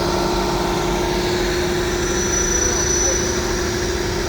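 A 1965 Oliver 1850 tractor rolls by in a farm show parade, its engine a steady low drone that holds evenly throughout while a voice talks over it.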